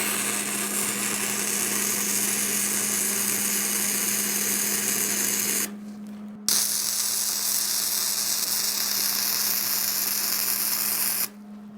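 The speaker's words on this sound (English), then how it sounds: "and I can weld that in" MIG welding with a Hobart 210MVP welder on hydraulic cylinder supports: a steady, loud crackling buzz with a constant hum, broken by a brief pause before the bead resumes and then stops near the end.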